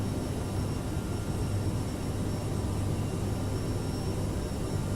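Steady, even roar of airliner engines at climb thrust in Microsoft Flight Simulator, a constant low rumble with faint high whine and no breaks.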